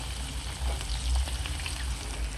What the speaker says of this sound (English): pepper and the pimentos into the fire, well, the hot oil, and that is for flavor